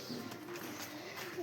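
A pigeon coos softly in a low, rolling murmur, faint and continuous over background noise, with no talk.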